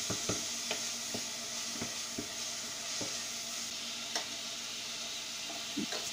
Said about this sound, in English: Keep on stirring so it doesn't burn.